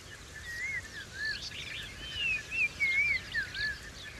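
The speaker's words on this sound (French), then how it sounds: "D'abord, celui bien caractéristique, en deux temps distincts, de l'outarde à ventre noir." Black-bellied bustard calling in the African savanna, faint thin whistled notes repeating through the clip amid other distant bird chirps and a low ambient hiss.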